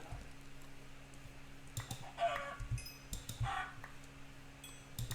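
Chickens cluck in the video game Minecraft, with a few soft, short clucks in the middle over faint clicks and low background hum.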